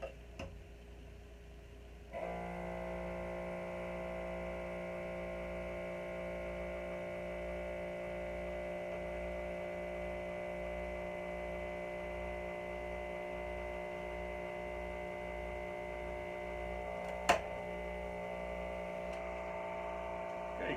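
A Hopsy Sub beer tap hums from its pressure or cooling system: a faint, steady electrical drone with a soft ticking pulse that starts after a couple of seconds and continues beneath occasional quiet sounds.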